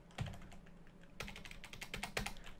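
Quick bursts of typing on a computer keyboard as a Linux command is entered, close and fairly quiet, a single tap followed by a pause and then a rapid run of keystrokes.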